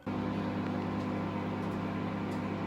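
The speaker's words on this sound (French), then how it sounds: "C'est l'étape où je mets ça au micro-ondes." A microwave oven runs with a steady, even hum that starts abruptly and holds at a constant level throughout, with no talking.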